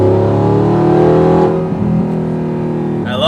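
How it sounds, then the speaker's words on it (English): A V8 car fitted with a full titanium exhaust revs loudly, its thick, heavy gurgle holding at a high pitch, then dropping away and settling back to a rumbling idle before a brief whir at the end. "This isn't a stock exhaust, this is a full titanium exhaust."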